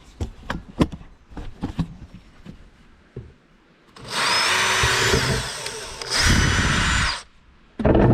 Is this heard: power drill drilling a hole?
yes